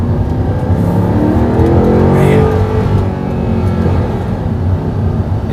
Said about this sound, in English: It's kind of scary how fast you can take some of these turns in this vehicle.